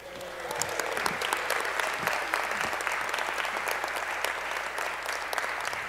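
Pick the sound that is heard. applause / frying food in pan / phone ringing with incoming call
applause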